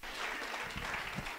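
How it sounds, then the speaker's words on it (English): Church congregation clapping in praise as people take their seats, a dense, steady wash of many hands held at an even level for a short stretch, with no voices standing out. "Let's give Jesus a hand clap of praise as you're seated this morning."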